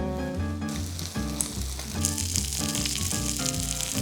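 A thick fish fillet fries in butter in a new pan, giving a loud, steady sizzle that carries throughout alongside faint background music.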